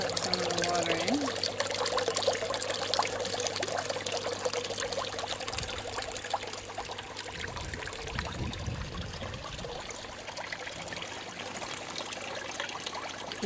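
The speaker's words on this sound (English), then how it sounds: "Put some of the water in." Water from an aquaponics fish tank is poured into a bag in a continuous, trickling stream that runs for several seconds while a person talks over it.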